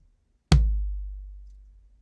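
A single drum hit from a dead-sounding sampled kit with the snares off, a sharp attack then a low, clean boom decaying smoothly over more than a second, free of snare rattle, alone in silence.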